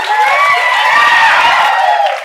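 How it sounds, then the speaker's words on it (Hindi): A studio audience at a live lecture show claps loudly and cheers, with whoops over dense, continuous applause that fades slightly at the end. "जोरदार तालियां एक बार कुंदन के लिए"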